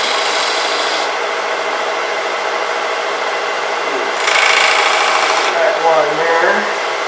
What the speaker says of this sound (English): I can go with a piece of sandpaper, 80 grit, and get a fresh piece of wood on there.